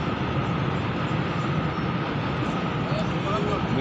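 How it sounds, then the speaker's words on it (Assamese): A long freight train crosses a bridge end to end, giving a loud, continuous rumble and rattle of wagons that stays steady throughout. "গোটেই দলংখনৰ ইটো মূৰৰ পৰা সিটো মূৰলৈকে ট্ৰেইনখনেই"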